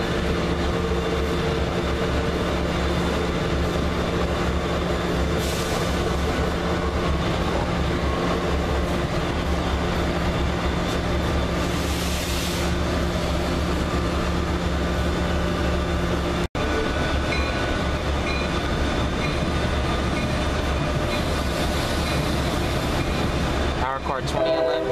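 An Amtrak AEM7 AC electric locomotive, number 946, passes close and loud with a steady roar and rail rumble that holds for the whole stretch, a sharp break near the end, and speech faint beneath.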